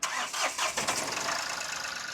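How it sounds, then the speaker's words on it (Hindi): A Mahindra TUV300 seven-seater diesel engine cranks briefly and catches, then settles straight into a loud, even, rattling idle close by. "गाड़ी स्टार्ट करते हैं भाई साहब। आवाज सुनना"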